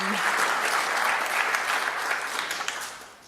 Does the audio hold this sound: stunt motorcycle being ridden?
no